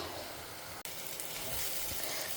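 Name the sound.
raw banana (plantain) sautéing in a pan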